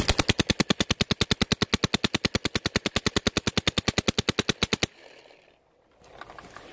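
An Empire Axe sYx paintball gun fires a rapid, steady stream of about fifty sharp pneumatic pops in under five seconds, evenly spaced and close, then stops, leaving faint rustling handling noise.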